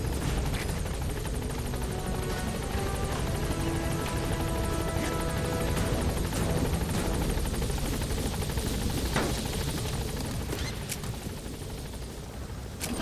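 A support helicopter in Metal Gear Solid V hovers at a landing zone, its rotor a loud, steady, dense roar that fills the scene without pause, with a few sharp knocks near the end.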